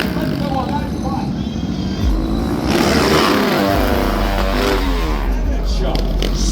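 Motocross motorcycle engines rev and roar at a Calgary Stampede stunt show, loud and sustained with rising throttle bursts as riders hit the ramps, under an announcer's excited commentary and crowd noise.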